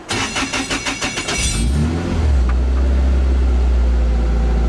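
Toyota 86 with a metallic ORC single-plate clutch being started at a racing circuit: a short run of rhythmic cranking pulses, then the engine catching and settling into a loud, steady idle close by.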